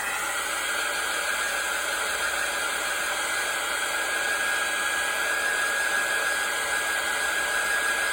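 A hair dryer blows steadily and close, a constant loud whirring hiss with a faint whine, drying a page of an altered playing card journal, with no pauses or talk.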